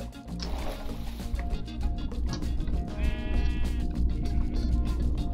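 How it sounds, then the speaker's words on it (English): A sheep in the Minecraft video game gives a few short bleats over a steady background of game sounds and a watery gurgle, with no talking. "Sheep, go back."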